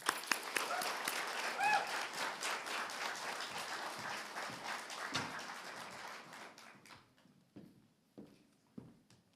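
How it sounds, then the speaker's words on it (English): An audience at an awards event applauds the Top 30 Under 30 honourees: full, close clapping that holds for several seconds, then thins out to a few scattered claps and shuffles. "let's have one more round of applause for this year's Top 30 Under 30"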